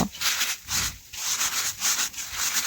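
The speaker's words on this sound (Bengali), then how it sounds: "এইভাবে হাত দিয়ে একটু চাপ দিয়ে ঘষে নেব" Homemade puffed rice is rubbed between the hands with light pressure, giving a crisp, rhythmic scratching rustle that repeats in about five quick strokes, close and alone.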